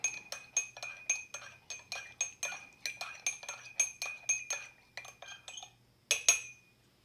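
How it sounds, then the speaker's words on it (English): A utensil stirs a Russian 2018 24-hour hunter-fisherman ration meal mixed with sweetened condensed milk, giving a steady run of bright metallic clinks against the container, close and fairly loud, with a brief pause near the end before a final sharper clatter. "And we'll give this a stir."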